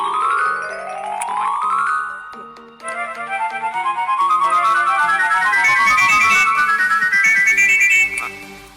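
A phone ringtone played from a sound effect app: a rising electronic sweep, a brief pause, then a loud, bright melodic tone pattern repeating steadily for several seconds.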